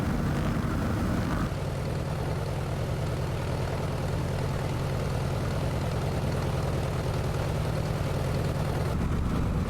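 A Carenado Cessna 195 propeller engine idles steadily while taxiing in Microsoft Flight Simulator, a continuous low droning rumble with a fast pulsing beat, loud and unbroken throughout.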